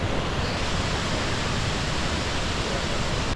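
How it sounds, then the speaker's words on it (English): Mila Mila Falls, a waterfall, roars as a dense, steady wash of broadband water noise, loud and close, with no voices. "That was waterfall number 1. It's called Mila Mila Falls."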